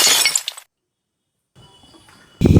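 A pot breaks with a sharp crash and clinking fragments, followed by a silent gap, a faint hum, then another loud burst.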